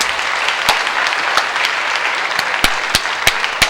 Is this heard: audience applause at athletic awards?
yes